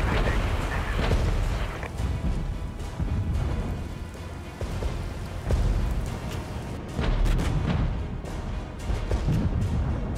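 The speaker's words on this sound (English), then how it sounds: "Oh, they even called in uh, another cluster bomb over there." Cluster bomb explosions in the wartime strategy game Regiments, a dense, continuous barrage of overlapping booms and crackling bursts, loud and rolling throughout.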